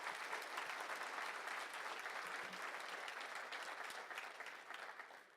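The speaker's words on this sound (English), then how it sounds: "Give a round of applause" Audience applause after a conference talk on virtual reality development with Unity, a steady, even wash of many hands clapping, fairly distant and quiet, easing slightly toward the end.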